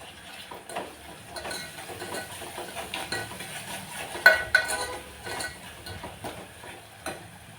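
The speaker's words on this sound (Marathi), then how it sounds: "छान टोमॅटो पण मऊ होईपर्यंत आपल्याला भाजून घ्यायचा आहे" Tomatoes roasting in a pan on the stove and stirred with a metal spoon, quick clinks and scrapes in an irregular rhythm over a faint sizzle, with one louder clatter midway.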